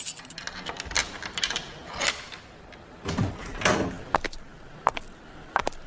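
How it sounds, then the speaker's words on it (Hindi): A door is opened, with rattling, clacking knocks and a metallic jangle like keys or a latch, followed by a few sharp clicks, close by and with no speech. "एक मिनट, मैं दरवाजा खोल रही हूँ।"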